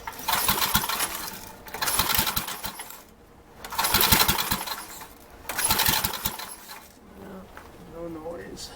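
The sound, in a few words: Troy Bilt Horse tiller engine cranking without muffler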